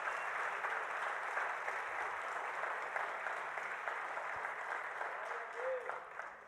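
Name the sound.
congregation applauding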